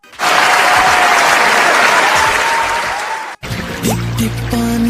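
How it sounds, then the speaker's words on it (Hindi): A crowd at a roast comedy show claps in a loud, dense burst. The applause cuts off abruptly partway through, and tonal sound follows. "ताली मारे"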